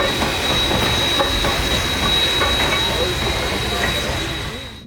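A steam locomotive pulls a train steadily nearby, rumbling with clattering wheels and a faint high whine, the noise easing slightly toward the end.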